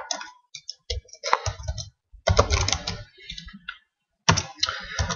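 Keystrokes on a computer keyboard come in quick irregular bursts with short pauses, close and clear, while a command is entered on an Android device and no one speaks.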